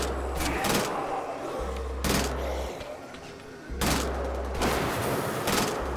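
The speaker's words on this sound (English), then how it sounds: "I actually like the burst fire on this." Burst-fire gun shooting in the video game Wolfenstein: The Old Blood, three loud rapid bursts of shots spaced about two seconds apart, with a low background hum between them.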